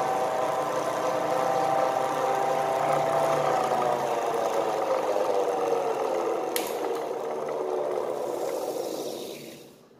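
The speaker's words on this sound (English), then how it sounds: "motor running with a very high speed" A homemade axial plus radial flux brushless DC motor spins at high speed on about 7 volts, giving a steady, close whine with layered harmonic tones that wind down and fade at the end.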